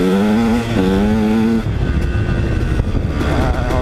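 A KTM-style 150 SX two-stroke dirt bike engine while riding on muddy trails, rising and falling revs with a buzzing whine, loud and close, then a rougher, choppy idle-like stretch.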